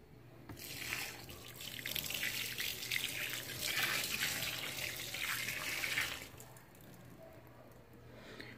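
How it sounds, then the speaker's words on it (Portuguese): Water running and splashing into a container while diluted laundry soap is mixed in, steady for several seconds, then stopping. "agora eu coloco mais um pouquinho de água"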